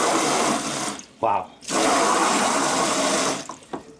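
Water gushing from a Delta kitchen faucet with sprayer during installation, a loud steady hiss that cuts off briefly and then resumes strongly, with a short exclamation from a person in between.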